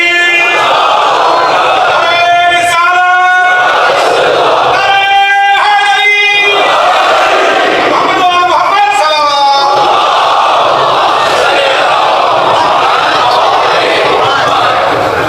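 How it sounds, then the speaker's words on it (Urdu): A large congregation at a Shia majlis chants salawat together in loud, surging unison, several rhythmic collective phrases rising and falling over constant crowd noise. "اس آپ کی صلوات سے پر محبت صلوات سے لگتا ہے کہ سننا چاہتے ہیں"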